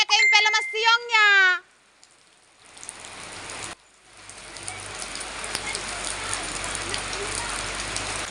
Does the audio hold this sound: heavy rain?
yes